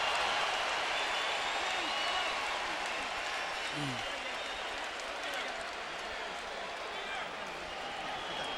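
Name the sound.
boxing crowd cheering Baldomir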